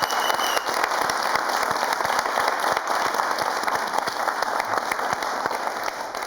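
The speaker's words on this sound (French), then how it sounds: "On va quand même lui réserver un tonnerre d'applaudissements." Studio audience applause on a French-language sports TV programme, a sustained, fairly loud rattle of many hands clapping, steady throughout with no talking over it.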